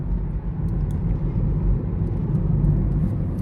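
A car drives along a road past a corn farm, its low steady rumble and tire noise heard from inside the cabin, continuous and moderately loud with no talking.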